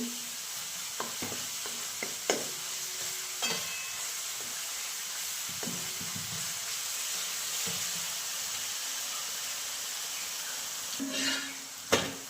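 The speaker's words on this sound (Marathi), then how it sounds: "आता थोड्या वेळा आधी ही चांगली परतून घेते" Thick masala paste sautéed and stirred in a pan for a soybean curry, with a steady close sizzle and occasional scraping knocks of the spoon against the pan.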